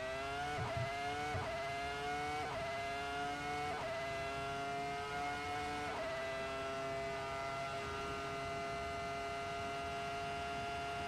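Formula 1 car engine in the Assetto Corsa racing game, a steady droning idle with repeated upward pitch sweeps as it slowly revs, continuous and fairly faint with no talking.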